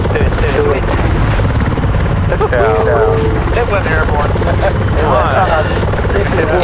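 Loud, steady helicopter rotor drone from a chopper in a military video game, holding constant throughout under the game's background chatter and radio voices.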